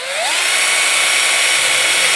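A power drill whines steadily as it bores 3/16-inch holes through a lid, rising in pitch as it spins up and then holding a loud, even drone.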